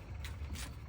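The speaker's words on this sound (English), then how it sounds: "Got myself an Icon 9238 ratchet." An Icon 9238 ratchet clicks quietly as it is worked, a few soft mechanical ticks close by with no talk.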